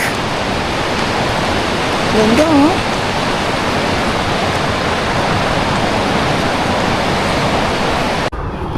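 A creek at Panorama Mountain Resort rushes and babbles steadily and loudly, a dense wash of water noise, with a brief spoken exclamation partway through.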